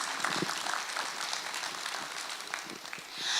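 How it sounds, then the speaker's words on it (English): A room of guests applauds at the Association of Mutual Funds of India's 30th foundation day celebration, with continuous clapping at fairly even strength that swells slightly toward the end. "Let's give a huge round of applause"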